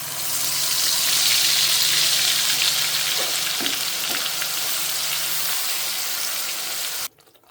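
Ginger, garlic, onion and tomato paste sizzles steadily in hot oil in a pan for a curry, a loud continuous frying hiss with faint stirring knocks, cutting off abruptly near the end.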